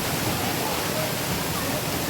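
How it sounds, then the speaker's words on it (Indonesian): Curug Goa Lumut Endah waterfall in Bogor, with clear water, pouring as a constant, loud broadband rush of falling water that stays even from start to finish. "Curug Goa Lumut Endah merupakan sebuah air terjun yang indah"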